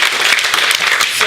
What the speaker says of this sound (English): let's give a round of applause to you guys for having me